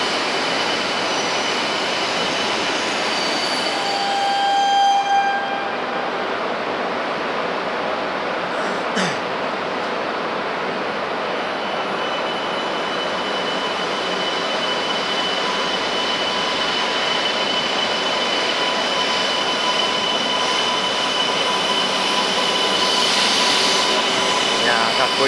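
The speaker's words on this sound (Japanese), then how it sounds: "これは1個前の新幹線で、時何号か分かんないけど、 E2 系の新幹線ですね。" An E2 series Shinkansen bullet train at a station, a steady broad roar of wheels and motors that holds level from start to end, with a brief high squeal near the middle.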